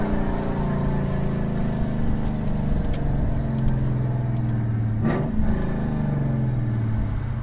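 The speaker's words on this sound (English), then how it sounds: "That right there is with the valves closed." A Lexus IS F V8 with its exhaust valves closed hums in a steady, throaty drone while driving, rising slightly in pitch around a brief swell in the middle, with no voices.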